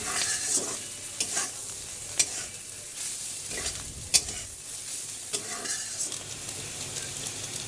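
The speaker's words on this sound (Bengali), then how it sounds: "শুকনো লঙ্কার গুঁড়া হলুদ নুন সব কিছু একসাথে দিয়েই ভাজা করে নেবে" Spices such as chili powder, turmeric and salt fry in a pan, with a steady sizzle broken by repeated scraping stirs and a few sharp spoon clicks, close and moderately loud, no talking.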